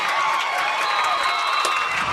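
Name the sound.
football crowd cheering after an interception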